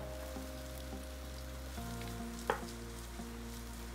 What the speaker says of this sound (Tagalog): magigisa lang tayo ng bawang sibuyas